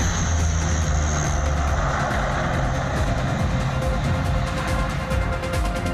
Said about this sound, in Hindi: जंगी जहाजों के दुश्मन को दहला देने वाली आवाजें जो इस एक्सप्रेसवे को आज चूमेंगे